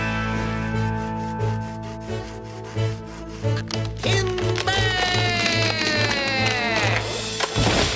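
Cartoon sawing of logs in a forest, a steady back-and-forth rasping of a saw through wood under music, ending in a loud crash.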